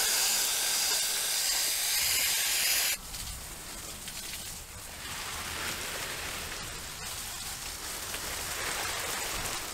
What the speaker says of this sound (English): Now I'm also going to spray on the other side of the path just to make sure I'm getting any root weevils on this side.